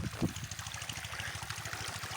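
Water from a pipe pours steadily into a field, a low, close gurgling flow with a rhythmic pulsing beneath it.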